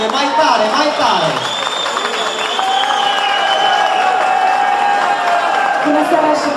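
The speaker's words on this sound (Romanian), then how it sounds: "Nu să preaud aplauzele, mai tare, mai tare!" A concert audience applauds and cheers as a singer is brought on stage at a New Year show, crowd noise running continuously under amplified music with bright tonal lines, loud and close throughout.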